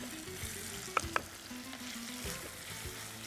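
Ginger sautéing with dried chillies in a pan gives a soft, steady frying hiss with a couple of sharp spatula clicks against the pan, no voices.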